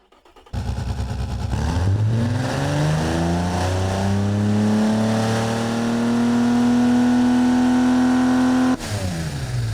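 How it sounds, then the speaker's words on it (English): A racing engine in a 1960s light utility vehicle in the video game BeamNG revs up loudly and steadily, its pitch climbing and holding high for several seconds before dropping off. "that's that's a racing engine."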